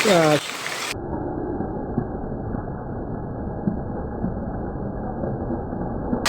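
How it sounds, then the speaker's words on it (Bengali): Heavy night rain pours down steadily in a village, a dense close hiss with low rumbles of thunder rolling underneath. A brief voice and tonal sound open the scene before the downpour takes over. "রাতের বেলা বৃষ্টি গেছে তার মধ্যে কি আকাশের গর্জন মেঘের গর্জনগুলো খুবই ভয়ানক"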